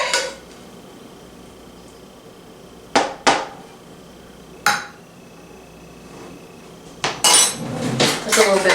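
A spoon scoops kielbasa sausage in a baking dish with a few sharp clinks against the dish, spaced apart over a quiet background, then a quick cluster of scraping knocks at the end.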